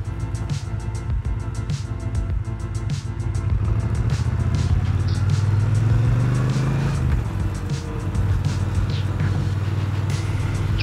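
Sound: road traffic passing

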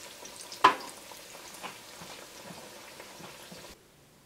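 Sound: Indonesian banana fry frying in a pan

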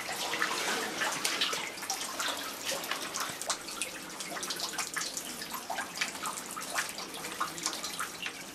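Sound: water pouring into a flooded cellar

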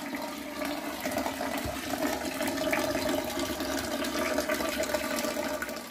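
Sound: sugar mash draining from drain tap

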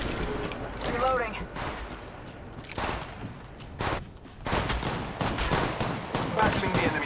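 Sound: gunfire in Apex Legends Mobile video game

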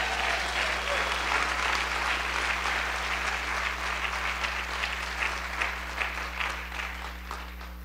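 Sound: church congregation applauding

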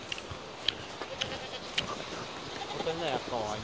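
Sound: goats bleating

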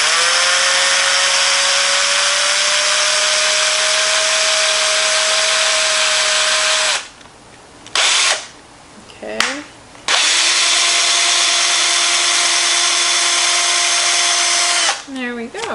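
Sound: power drill drilling a hole in wood

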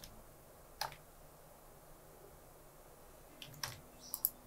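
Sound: computer mouse clicks and keyboard shortcuts in Photoshop

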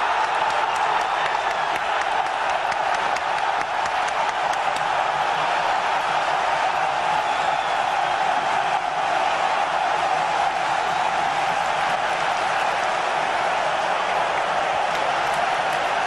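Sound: stadium crowd cheering after a goal

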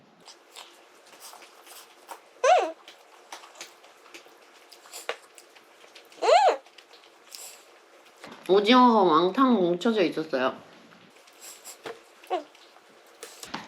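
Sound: dogs chewing hard dental treats

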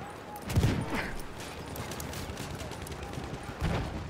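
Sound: enemy machine gun fire in a video game

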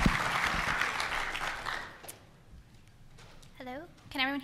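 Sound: audience applauding speaker Rebekah

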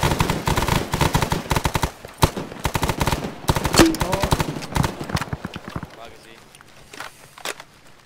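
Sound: gunfire in a video game

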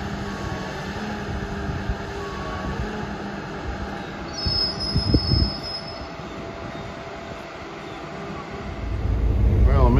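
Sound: SEPTA Silverliner IV commuter train riding toward Philadelphia

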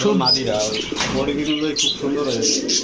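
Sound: Bangladeshi racing pigeons cooing and flapping wings

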